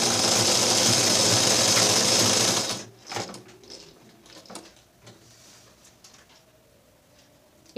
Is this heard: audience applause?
no